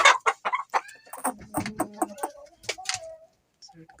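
A fighting rooster clucks in a run of short, close calls with some harmonic squawks in between, fairly loud, then a brief pause and a few fainter clucks at the end, with no talk.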